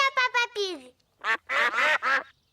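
A cartoon duck in a Peppa Pig episode quacks in a short burst of several close, bright calls, with a short gap before a second run of louder quacks.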